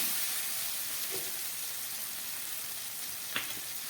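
Spices with chilli powder and green chillies sauté in a pan for a prawn and potato curry. They give a soft, steady sizzling hiss with a couple of faint utensil scrapes and a small clink near the end. Nobody speaks.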